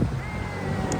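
A brief gust of wind buffets the microphone outdoors, a steady, loud rumbling roar lasting about a second.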